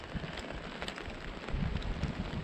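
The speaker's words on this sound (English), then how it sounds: "Rain just picked up again." Steady rain falls during a canoe trip in the northern Manitoba wilderness, a dense close hiss of drops pattering on surfaces without pause.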